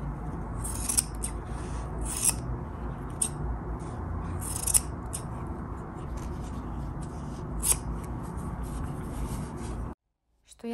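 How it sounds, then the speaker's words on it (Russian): Jack and Premax scissors cutting repeatedly, a steady run of close, crisp snipping and blade-scraping strokes for about ten seconds, ending in sudden quiet, with no talking. "вот сейчас вот посмотрите, как режут ножницы"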